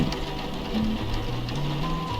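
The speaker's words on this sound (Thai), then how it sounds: "ฝนก็ตกพรำๆแหมบรรยากาศเป็นใจ" Steady rain falls in the Roblox game Break In Story, a continuous soft patter layered under low in-game music tones, with no talking.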